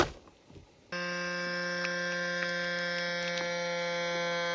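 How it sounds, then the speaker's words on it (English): A vacuum sealer runs on bags of Swiss chard and kale stems, a steady loud motor hum with strong tonal harmonics that starts abruptly after a quiet moment and holds evenly to the end, with faint clicks. "And then vacuum seal them and freeze them."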